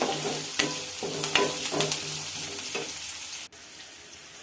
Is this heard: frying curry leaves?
yes